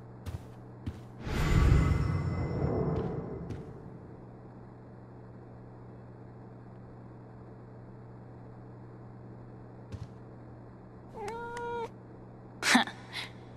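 A cat in the video game Life Is Strange: True Colors lets out a loud, drawn-out meow early on, then later gives a few shorter, fainter mews over a low steady hum.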